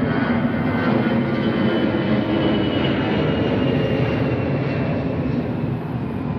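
A fixed-wing airplane passing overhead near a river, a loud, continuous engine roar that holds steady throughout with a slight fade toward the end.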